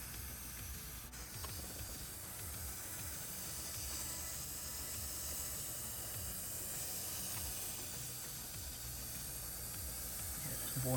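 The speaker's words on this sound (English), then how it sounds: "See, this is the heater, and it is boiling." Water boils and hisses on the heater of a faulty Jura Impressa XS90 Swiss espresso machine, a steady airy sizzle with faint crackling that runs throughout, close by and unbroken by speech.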